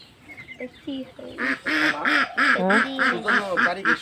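Village ducks give a run of quacks that start softly and build into a loud, rhythmic series of repeated calls close by.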